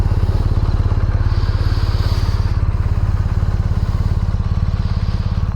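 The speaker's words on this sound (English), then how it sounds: "Oh, I can't let her sit here and idle very long." A BMW motorcycle with a stainless exhaust idles close by, giving a loud, steady, rapid pulsing throb that holds an even rhythm throughout with no talking.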